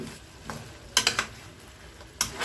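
Chicken adobo sizzling in oil in a pan, a soft steady fry with sharp scraping stirs and clinks of a utensil against the pan, several quick strokes close by.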